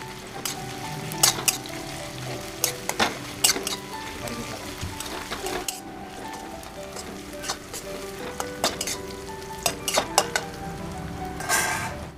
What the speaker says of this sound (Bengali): এই পেঁয়াজ কুচানোগুলোকে এবার একটু ভেজে নেব।